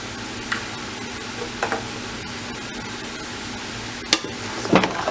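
A spoon stirs a pot of homemade chili seasoned with sugar, giving soft scraping and a few sharp knocks against the pot over a quiet low hum, with no talking.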